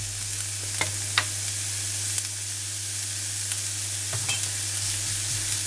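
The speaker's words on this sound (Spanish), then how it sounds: "Aquí ya tengo el aceite caliente y vamos a ir pochando nuestra cebolla" Chopped onion with a pinch of salt softening slowly in hot oil for carbonara, giving a steady close sizzle broken by a few light clicks and scrapes of stirring, with no voices.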